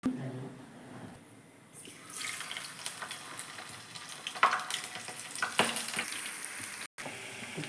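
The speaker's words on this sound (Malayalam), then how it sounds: "ഇനി അതിനെ നമുക്ക് ഫ്രൈ ആക്കി എടുക്കാം" Beef chilli coated in masala frying in a pan, a steady broadband sizzle that swells after a quiet start, with occasional clinks and stirring scrapes over a low background murmur.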